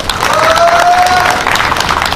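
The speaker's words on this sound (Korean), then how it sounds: "큰 박수 보내주시기 바랍니다" An audience at a rally about an election lawsuit breaks into dense, steady applause that is loud and close, with a faint crowd murmur and a brief whistle-like tone mixed in.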